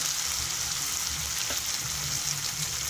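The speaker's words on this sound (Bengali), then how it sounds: "এগুলোকে ভালো করে নেড়ে চেড়ে কষাতে থাকবে পেঁয়াজের সঙ্গে" Jackfruit and prawns fry with onions in a hot pan, giving a steady, close, unbroken sizzle with faint scraping as the mixture is stirred.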